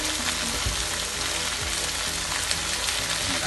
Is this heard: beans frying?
yes